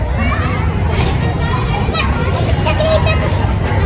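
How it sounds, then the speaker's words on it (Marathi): Crowd hubbub outside a temple on a Friday, with close, loud, continuous chatter and children's voices mixing into a busy babble. "आज शुक्रवार असल्यामुळे गर्दी"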